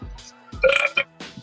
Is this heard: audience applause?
no